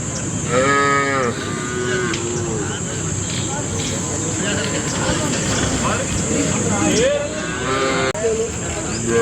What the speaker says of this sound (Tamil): நல்ல சூப்பரான அழகான மாடு.